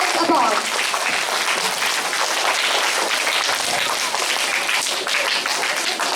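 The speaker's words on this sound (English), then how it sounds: "A loud round of applause for the Nukkad Natak team for giving us so much to reflect upon." Loud, sustained applause from a school audience at a Tri Colour Day event, cheering a Nukkad Natak street play team. The clapping is dense and continuous, steady throughout with no pause.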